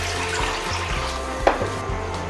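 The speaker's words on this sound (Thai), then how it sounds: "เทน้ำใส่กระทะต้มให้เดือด" Water bubbles and hisses in a pan on the stove, a steady rolling simmer with a low hum underneath and one brief clatter.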